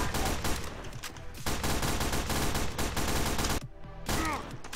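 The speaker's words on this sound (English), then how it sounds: "that sniper is gonna be obnoxiously loud throughout the entire thing" Repeated sniper rifle shots in a competitive Team Fortress 2 Highlander match, loud and close, cracking over dense continuous game noise, with a short lull near the end before the gunfire resumes.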